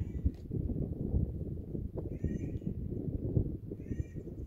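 An odd two-part bird call sounds a few times at intervals, distant and thin, over a steady low background rumble.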